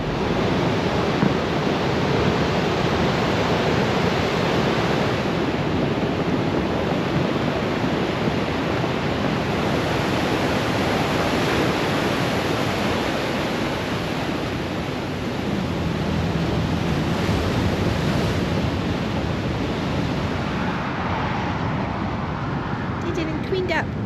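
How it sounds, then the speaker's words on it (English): Ocean surf at a state beach beside redwood forest hiking country makes a steady, loud wash of breaking waves and wind that lasts throughout without pause. "Just like that, we're back at the ocean. Here's a state beach right across the road."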